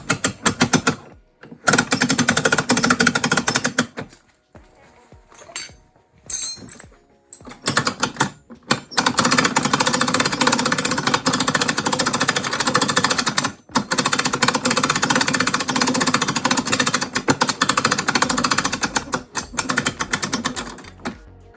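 Electric winch on a UTV-MX paying out a six-metre towing strap, a loud, steady mechanical whirring and clattering that runs in long bursts with short pauses between them.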